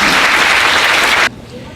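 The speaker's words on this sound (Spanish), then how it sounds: "Un aplauso para el señor." An audience at a conference on microplastics on Peruvian sandy beaches claps loudly and densely for a presenter, then the applause cuts off abruptly, leaving a quiet room tone.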